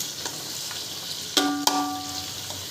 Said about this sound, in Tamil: நீளமாக நறுக்கி வச்ச 4 பெரிய வெங்காயம் ஆட் பண்ணி நல்லா வதக்கிக்கோங்க.